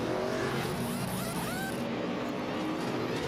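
A NASCAR Nationwide Series stock car at Nashville roars away from its pit stall, its engine note climbing as it accelerates, over a loud, steady racetrack din.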